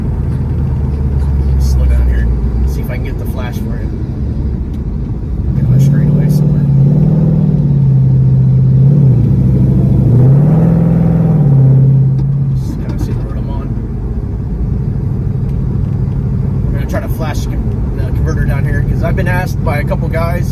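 A car driving at about 60 miles an hour with a slipping clutch gives a loud, steady engine rumble with a rising and falling whine, while someone talks over it.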